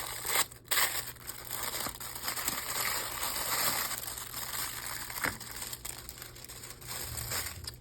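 Crinkling cellophane stripped from a second journal cover, continuous close crackle and rustle lasting several seconds with a few sharper crunches, no voices.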